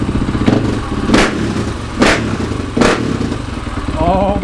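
A supermoto motorcycle with an FMF Factory 4.1 RCT exhaust idles loudly and close, with three sharp throttle blips roughly a second apart and possible voices faint underneath.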